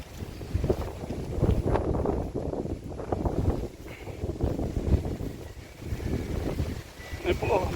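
Strong wind buffets the microphone in rumbling gusts, while people talk over the noise throughout.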